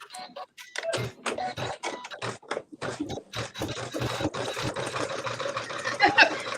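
Sewing machine stitching during a Christmas sewing workshop, running in short uneven bursts with brief pauses, fairly close, with faint talk in the room.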